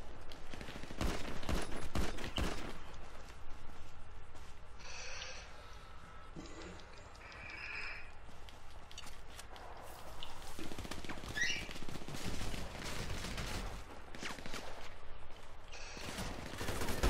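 Rapid gunfire from the GTA V Online game outdoors: bursts of sharp shots and volleys, loud and near, with pauses between and a few quieter mechanical clicks.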